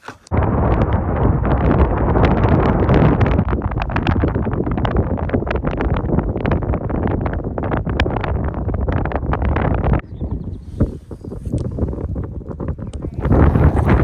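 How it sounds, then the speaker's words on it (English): Loud desert wind buffets the microphone in heavy rumbling gusts, nearly constant and briefly easing before roaring back. "I made it to set, and it's windy over here."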